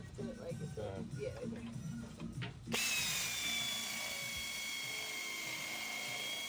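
A power drill bores a hole through the drop bracket of a Ford Bronco during a lift kit install, a steady high whine starting midway after muffled talk and running on loud and continuous.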